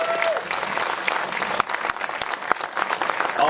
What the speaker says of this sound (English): let's give all the incredible producers of this festival a round of applause